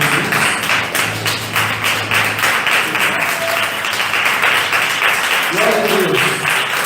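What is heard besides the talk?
congregation clapping hands in praise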